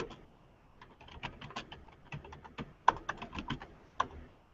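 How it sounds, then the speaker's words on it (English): Someone types on a computer keyboard while entering Linux commands, a close run of quick irregular key clicks with a few sharper, louder strokes and no speech. "Wow, I'm awesome at typing today."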